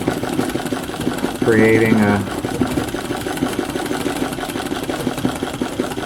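Steady whirring drone of an embroidery machine stitching an abstract design, running continuously through the clip with a brief louder voice passage in the middle.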